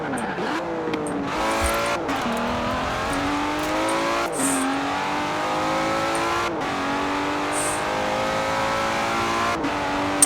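Car engine in Forza Horizon 4 revving hard through repeated gear changes, a loud continuous roar that climbs and drops with each shift, close and steady with no talk.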